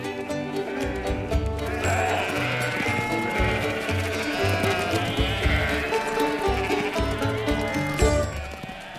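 A large flock of wild sheep being rounded up at a traditional British sheep gathering bleats continuously, many overlapping calls near and far forming a dense, noisy chorus without pause.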